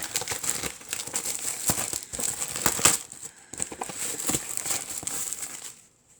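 FIFA 365 sticker multipacks are opened, their pre-cut foil wrapping crinkling and crumpling close up in irregular bursts with short pauses, ending in silence.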